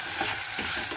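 Rice being stirred into vegetables in a hot pan makes a steady sizzle with a few scraping strokes of the spoon, close and alone, with no voices.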